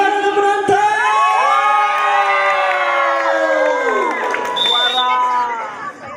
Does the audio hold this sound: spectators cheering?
yes